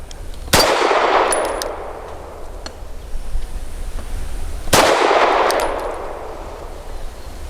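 Two sharp pistol shots from a SAR USA P8L, about four seconds apart, each followed by a bright metallic ring from a struck steel target, loud and close in an open outdoor range.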